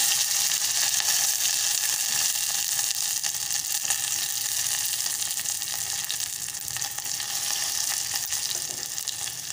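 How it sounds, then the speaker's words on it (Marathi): Curry leaves and garlic sizzle loudly in hot oil already tempered with asafoetida and mustard seeds, for a buttermilk kadhi. The sizzle is a steady, close, dense hiss that keeps going without a break, with no talking. "कढीपत्त्याची पाने घालत आहे, लसूण घालत आहे,"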